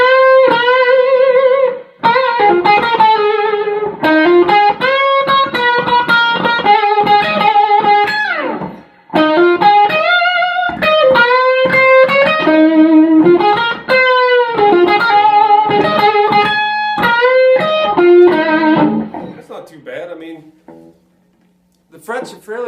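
An AXL Badwater SSH Strat-style electric guitar plays slow melodic lines and chords through effects, clear and loud up close, with brief pauses between phrases and a fading ring at the end.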